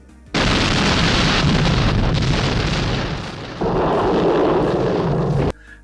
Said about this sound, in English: Bond ends up putting some explosives on the back of the guy's suit using a magnet, which makes him explode.